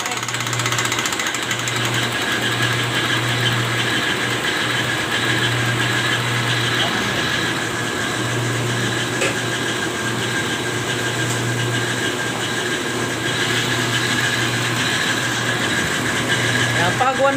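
An Isuzu 4JA1 diesel engine runs steadily on an injection pump calibration bench, its low, continuous drone holding loud and even throughout with a faint intermittent hum.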